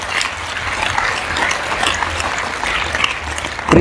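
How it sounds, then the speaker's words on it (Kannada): A crowd at a motivational programme claps loudly and steadily, a dense continuous burst of many hands throughout, with no voice standing out. "ಅವಗೊಂದ್ಸರಿ ಜೋರಾಗಿ ಚಪ್ಪಾಳೆ ಇರ್ತದೆ"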